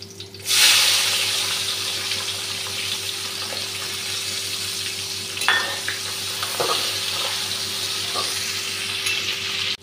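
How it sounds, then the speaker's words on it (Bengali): Onion and green chilli sizzling in hot oil alongside fried katla fish for a potato and data curry, a loud continuous frying hiss with occasional stirring clicks. "এখন মাছটা ভেজে নিয়েছি, পেঁয়াজ কাঁচা লঙ্কাটা দিয়ে দিচ্ছি।"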